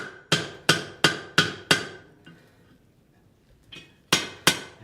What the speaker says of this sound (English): Now I'm going to hit with my hammer right there where that comes together.